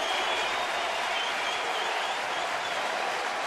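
A sellout crowd of over 41,000 at a Detroit baseball stadium cheers and claps in a dense, loud, continuous roar that holds steady throughout.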